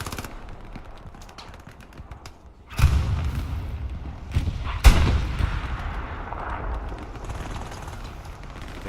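Machine gun fire and heavy artillery in a competitive match of a World War II style strategy game: rapid bursts, two loud booming hits, and a steady roar of battle behind.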